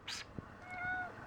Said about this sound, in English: Cat next to all my messy stuff.